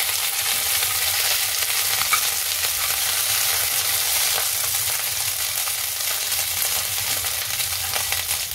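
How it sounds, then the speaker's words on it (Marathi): Eggplant frying in a pan with onion for a Maharashtrian vangyachi bhaji, a loud, dense, continuous hiss and crackle heard up close with no talking. "चांगल्या 4 साईडने आपल्याला वांगी परतून घ्यायचे।"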